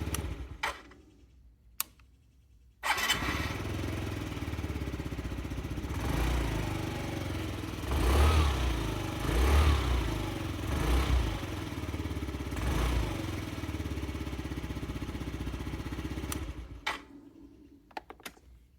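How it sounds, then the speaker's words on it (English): A 2018 Yamaha Zuma 50 scooter cranks after a short pause and catches, then runs at a steady buzzing idle with a few brief revs, close by, before cutting off near the end. "So let's start the 50. Cranks right up, of course."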